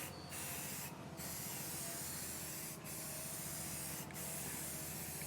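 A steady aerosol hiss runs throughout, close and sustained, interrupted by a few short gaps between bursts.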